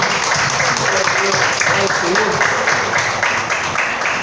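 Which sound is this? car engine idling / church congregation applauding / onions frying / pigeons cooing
church congregation applauding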